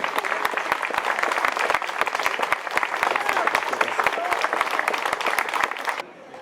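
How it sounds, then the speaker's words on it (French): Dense, steady applause from a large audience at a book presentation in Saumur, many hands clapping at once in a continuous wash that stops abruptly near the end. "applaudissez tous les talents de Saumur et particulièrement celui de Johan"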